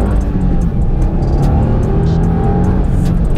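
A 2022 Subaru WRX being driven hard through corners, its engine droning steadily and loud with a faint hint of tyre noise, continuous throughout.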